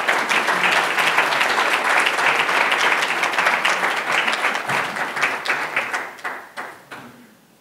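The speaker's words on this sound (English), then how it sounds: "big round of applause" An audience at a banquet bursts into sustained applause, dense and loud at first, then thinning into scattered individual claps that fade out toward the end.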